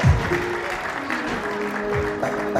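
An audience claps at a Jain religious gathering in Nanauta, a continuous, moderately loud patter of many hands with a low voice and some tonal sounds underneath.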